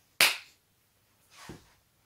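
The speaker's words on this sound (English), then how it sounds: "do a clap" A single hand clap lands sharp and close, followed about a second later by a second, softer clap in an otherwise quiet room.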